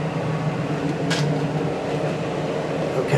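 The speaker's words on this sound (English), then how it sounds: "So that's the generator." A 2015 Sanibel 3351 RV's generator running: a steady, low mechanical hum with a droning rumble throughout, with a brief hiss partway through; no voices.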